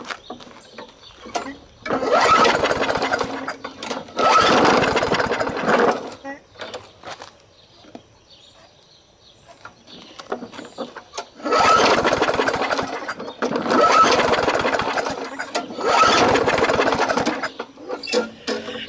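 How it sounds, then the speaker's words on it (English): A small push mower engine sputters to life in two separate runs, chugging and popping loudly through the carburetor or exhaust, separated by a quiet stretch in between. "it's popping through the carburetor or the exhaust one"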